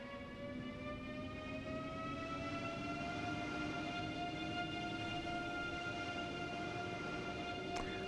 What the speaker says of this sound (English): So yeah, that was the train we were waiting for then.